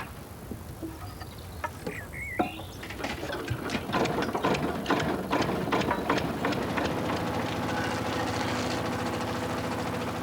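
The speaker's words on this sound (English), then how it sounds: "The peeling machine is roughly around 30 to 40 years old." A wood peeling machine about 30 to 40 years old strips bark from poles, building from a few clanks into a loud, sustained mechanical rattle and grinding hum with rapid ratcheting clatter, close by.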